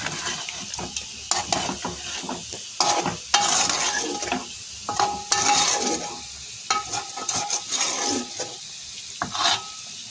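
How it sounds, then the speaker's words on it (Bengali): Honey chicken being stirred in a cooking pot, with repeated scraping and clattering strokes of the utensil over a steady sizzle, close and fairly loud, with no talking. "এবার একটু মিশিয়ে দেবো হাঁড়িটা"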